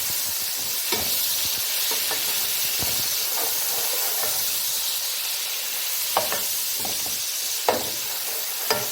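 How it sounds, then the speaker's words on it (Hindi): A medium chopped tomato sizzles and hisses in a pan of lightly golden sautéed onions, with a steady frying crackle and occasional sharp clinks of stirring. "मेरा प्याज बहुत अच्छे सोते हो गया, बल्कि थोड़ा सा लाइट गोल्डन भी हो गया है। ऐसे में मैंने एक मीडियम टमाटर काट के इसमें डाल दिया है।"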